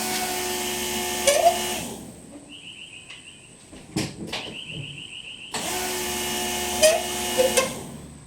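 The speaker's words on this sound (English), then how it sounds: "Just leave the fuel pumps on for a minute," Electric fuel pumps run in a Nissan S13 with an LS1 engine swap while the lines fill from empty. A steady, close mechanical hum and whine fills two stretches, broken by a quieter gap with a few faint clicks and beeps.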